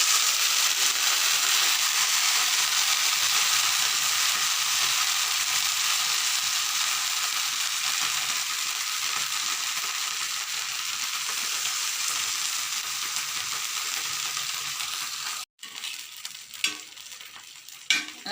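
Potato and capsicum shallow frying on a tawa, a dense continuous sizzle held close for a long stretch before dropping off into a few scattered crackles and clicks near the end.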